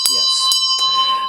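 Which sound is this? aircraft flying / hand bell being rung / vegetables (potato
hand bell being rung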